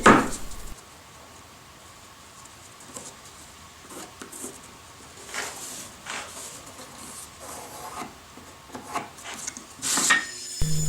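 A pencil marks wooden side pieces against a template: faint scattered scratching and rubbing strokes on wood, sparse and close, with a couple of louder knocks at the start and end.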